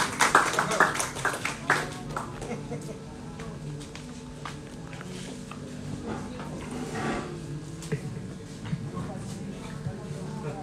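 An audience claps for three panelists at a book discussion event. The applause is loudest in the opening two seconds, then thins into scattered clapping mixed with room chatter.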